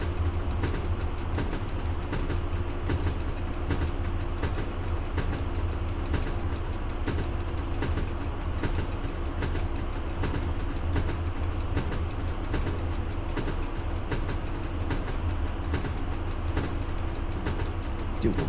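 Train from the game Train Driver 2 rumbling steadily at a station, with a continuous low engine drone and faint rhythmic clatter throughout, fairly loud and unbroken.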